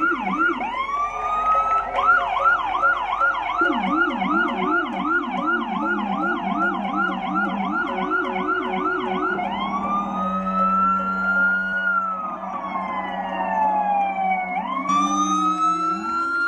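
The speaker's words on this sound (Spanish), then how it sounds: "El sonido de las sirenas que se escuchó frente al Hospital Presbiteriano de Nueva York" Several emergency vehicle sirens wailing together outside New York-Presbyterian Hospital, overlapping rising and falling tones and a fast yelp, loud and steady with a lower horn-like drone joining partway, street rumble underneath.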